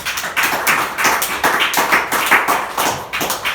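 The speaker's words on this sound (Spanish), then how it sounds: "Denle un aplauso a Jesús" A church congregation claps for Jesus in steady, rhythmic applause that stays loud and close across the whole moment, with no talking over it.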